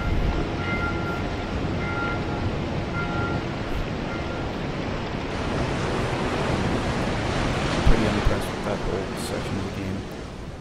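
Water floods a sinking ship in the video game Dark Souls 2: a dense, steady rushing roar like surf that holds throughout, with a couple of brief knocks near the end.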